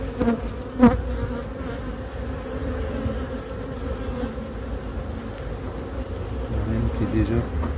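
Honeybees buzz steadily over a brood frame during a spring hive inspection at a queen-rearing and selection apiary, a close, continuous hum with one brief louder swell near the start.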